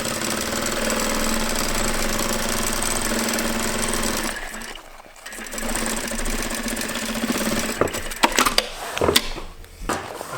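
An industrial sewing machine runs steadily, stitching repeated reinforcing seams and bar tags on a low-profile plate carrier vest. The motor hum is continuous and loud, with a brief pause midway and then choppier bursts of stitching and handling knocks near the end.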